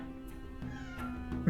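A single short cat meow from the Hearthstone video game, high and tonal, swelling into a louder rising cry at the very end, set against a faint game backdrop and a talking voice.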